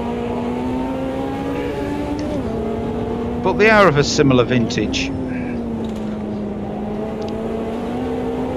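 A Ferrari 330 P4 prototype race car in Automobilista 2, a steady engine drone that rises into a burst of high revving and shifting midway, heard under someone talking throughout.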